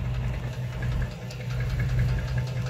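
A 5.7 Hemi engine with a spun main bearing idles with a rough hum and a faint, rapid rod knock ticking through it. The sound is steady and fairly quiet, and no one talks.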